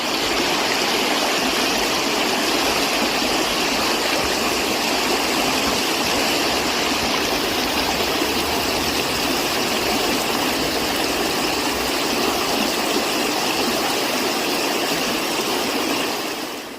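The Necanicum River in Oregon rushes steadily in a dense, close, unbroken wash of flowing water that stays loud and even throughout, with no voices.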